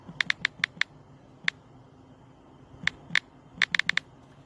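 Keystrokes on a computer keyboard as a login password is typed: a quick burst of five or six sharp clicks, a lone tap, then two more bursts of rapid taps, close and crisp over a quiet room hum.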